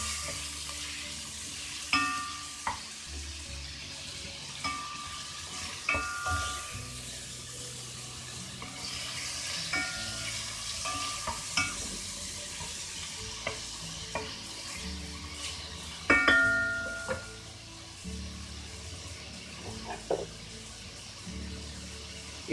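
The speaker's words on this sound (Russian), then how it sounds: "Наше мясо уже шкварчит, его нужно постоянно перемешивать." Meat sizzles steadily in oil in a kazan while a spoon scrapes and stirs it, producing irregular clinks and knocks over a constant frying hiss, close up with no talking.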